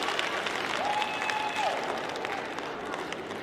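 A home crowd applauds steadily at a wheelchair curling game at the Beijing 2022 Paralympics, with a dense, even wash of clapping lasting several seconds and a brief whistle-like tone inside it.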